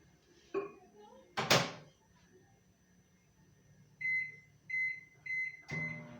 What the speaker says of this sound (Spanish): Esto es, para que se caliente en el microondas